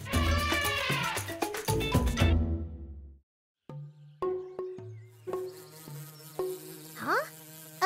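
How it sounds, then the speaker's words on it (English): A cartoon bee buzzes close by in an animated children's wildlife show, a loud whining drone that follows a burst of music and rises and falls in pitch. "A bee? Shoo! Shoo!"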